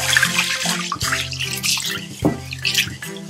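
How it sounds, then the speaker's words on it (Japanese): Dried adzuki beans being washed in water, with sloshing, trickling and dripping sounds and light knocks against the bowl, close by and irregular, with no talk. "一回ね、こう洗ってあげて、こう汚れを洗い流すってことをしてあげた方がいいですね"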